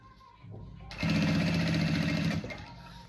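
A sewing machine runs a seam along a fold on a fabric bag, starting after a quiet moment with a steady, close, rattling whir for over a second before stopping, with faint voices in the background.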